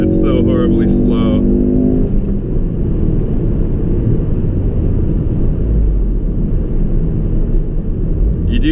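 A Ford Focus RS on its stock tune accelerates with a steady, loud engine drone from inside the cabin, after a voice speaks briefly over it.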